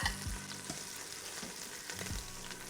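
Beef sizzles steadily as it sears in a pot in batches, with a few dull clanks of a utensil against metal scattered throughout, fairly quiet and close.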